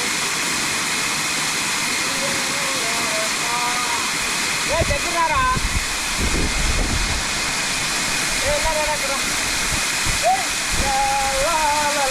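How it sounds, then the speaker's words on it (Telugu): Pogilla waterfall in Telangana pours with a constant broadband roar of rushing water, while people talk and call out over it nearby. "చూసారు కదా వాటర్ ఫాల్స్ ఎలా ఉందో"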